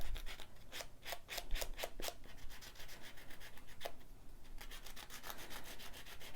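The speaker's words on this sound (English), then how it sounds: "I can just really carefully sand around the edges" Small cut-out cardstock flower having its edges carefully sanded, producing soft, close, rhythmic scratchy rubbing strokes in short bursts with pauses, quiet and with no voices.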